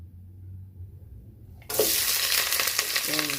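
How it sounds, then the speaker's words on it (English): Onions dropped into hot oil for pilau: after a quiet moment the pan erupts into a loud, close, continuous sizzle that keeps going steadily. "I'll start by cooking my onions. My oil is already hot,"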